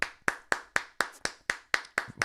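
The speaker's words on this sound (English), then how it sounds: "Let's clap." People clap together on a morning radio show, giving nine sharp, evenly spaced claps in a steady rhythm, close and crisp, without speech.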